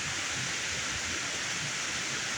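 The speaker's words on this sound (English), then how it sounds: "But the waterfall's still going." Water spills over a small dam in a steady, even rushing hiss, continuous and moderately loud with no other sounds.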